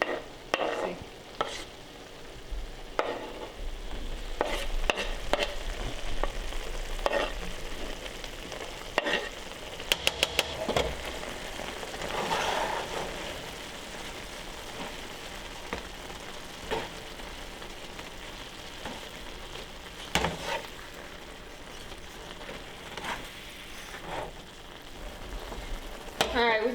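Shaved cheesesteak beef and onions frying on a griddle, a long, steady sizzle crackling throughout, with repeated scraping and clacking of spatulas turning the meat.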